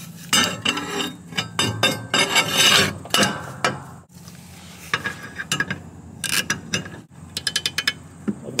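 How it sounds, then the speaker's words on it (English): A right angle impact wrench with a low profile socket snugging up a mower blade, heard as rapid clattering bursts and ratcheting hammering with pauses between, close and fairly loud, alongside metallic handling clicks. "Then we'll go ahead and snug it up with the impact."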